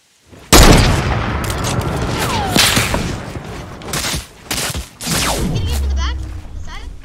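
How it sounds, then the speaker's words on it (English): Gunfire and explosive booms in an online multiplayer shooter game, with sharp shots and loud blasts over a steady bed of game noise, while players talk over the action. "Somebody's shooting me from the other side."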